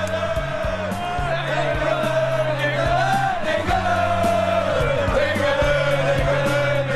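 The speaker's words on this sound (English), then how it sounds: "But we can hear a crowd somewhere singing England, England." A crowd chants England, England somewhere off in the distance during a street demonstration in London in March 2010; the sustained, wavering group voices carry continuously beneath other steady background sound.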